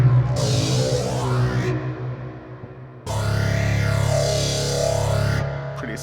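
Synth guitar tone from a POD HD Pro with heavy distortion, no synth-o-matic, playing two long sustained buzzy chords with sweeping filtered overtones and a brief gap between them, alone and fairly loud.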